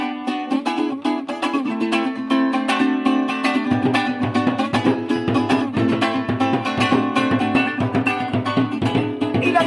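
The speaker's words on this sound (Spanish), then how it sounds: "y el cuatro suena así" Venezuelan cuatro, a small four-string strummed guitar, played in a steady, bright rhythmic strum with clear chords, close and continuous throughout with no talking.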